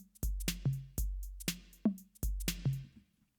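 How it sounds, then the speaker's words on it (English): Programmed electronic drum beat with kick and snare hits in a steady pattern, the snare fed through a reverb send so each hit trails off in a wash of ambience, playing alone with no talking. "Right, so I'm adding reverb to the snare this way."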